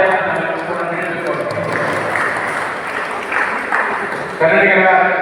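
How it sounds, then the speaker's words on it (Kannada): Audience in the Guru Bhavan hall in Mandya clapping at a Kannada Rakshana Vedike office-bearers' installation, a dense steady applause that swells near the end. "ಜೋರಾದ ಚಪ್ಪಾಳೆಯನ್ನು ಕೂಡ ನೀಡಬೇಕು."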